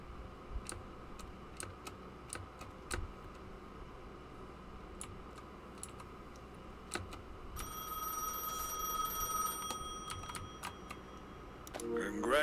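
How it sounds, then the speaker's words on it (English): A telephone rings inside the video game Gas Station Simulator, a steady electronic ring with stacked tonal bands lasting a few seconds over light ticking and clicking in the background. "Pick up the phone. The phone's ringing."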